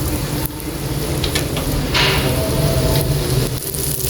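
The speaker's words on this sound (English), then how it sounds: "after make sure that the oil is hot enough, you can begin frying the chicken" Pieces of chicken frying in hot oil for ayam cabe garam, a steady loud sizzle and crackle that surges briefly midway, close up with no talk.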